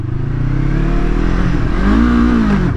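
A 2019 Yamaha R3 motorcycle engine revs loudly and steadily, its pitch climbing and falling in a smooth sweep near the end, close by with no talking.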